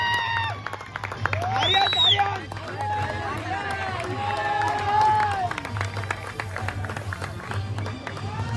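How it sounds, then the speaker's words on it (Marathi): A crowd clapping and cheering at a Dahi Handi jersey opening event, steady applause mixed with shouts, whistles and voices throughout. "सर्वांनी टाळ्या वाजवायच्या"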